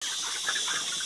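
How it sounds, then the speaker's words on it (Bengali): Poultry chickens on a farm cluck while eating feed, a close, busy chatter of short overlapping calls with a constant high hiss behind them. "এই যে মুরগিগুলা খাবার খাচ্ছে, এগুলা সব পোল্ট্রি মুরগি"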